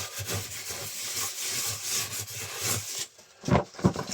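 Scraping and brushing the floor of a rabbit enclosure with a scraper and brush, a steady close rasping rub with rhythmic strokes, followed by a few louder sharp scrapes near the end.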